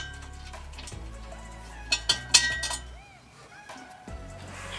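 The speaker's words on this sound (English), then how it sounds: "I'm going to go ahead and fit these bolts through." Metal bolts fitted through the exhaust flange of a Nissan 350Z during an Ark Grip exhaust install, several close sharp clinks and ticks over a low steady hum, then quieter handling.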